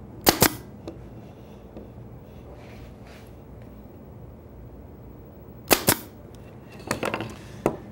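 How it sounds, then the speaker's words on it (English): A 22-gauge pneumatic pin nailer running on compressed air fires pins into a wooden miter joint: two sharp snapping shots near the start, then a tight burst of several more toward the end, with quiet shop air between. "Another way you can do the same thing with a mechanical fastener, isn't quite as obvious, is with a pin nailer."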